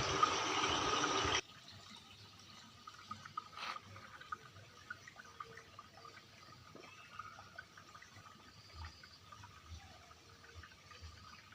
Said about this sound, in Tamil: இங்கே வந்து சின்னதாக ஒரு ஓடை போயிட்டுருக்கு